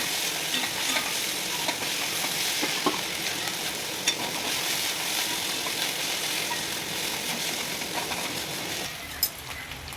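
Ginger and garlic fry in a pan for a Bengali-style chicken dish, a constant close sizzle with scraping stirs and occasional utensil clinks against the pan.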